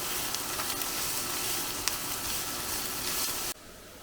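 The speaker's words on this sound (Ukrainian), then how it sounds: "поки селера буде підсмажуватись" Celery sizzles and crackles steadily in a hot pan, a constant frying hiss that cuts off abruptly near the end.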